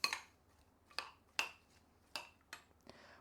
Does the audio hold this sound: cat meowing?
no